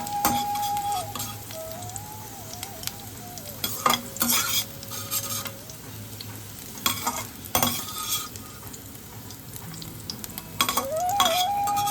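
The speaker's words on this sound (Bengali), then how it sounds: "এদিকে উচ্ছেগুলো কিন্তু আমার খুব ভালো করে ভাজা হয়ে গেছে," Bitter gourd pieces crackle loudly in hot oil, with repeated metal spatula scrapes and clinks as they are stirred and lifted out of the pan, and a faint whistling tone running underneath.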